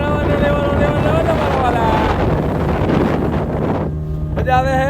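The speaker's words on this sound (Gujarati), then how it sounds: "પેટ્રોલ પાછું ભળી ગયું છે એન્જિન ઉપડી ગયું છે તો પાછા જાય છે કાંઠા બાજુ" A small motorboat's engine, just restarted after a fuel problem, runs steadily at sea as the boat heads back toward shore, a close droning rumble mixed with heavy wind buffeting, with people talking over it.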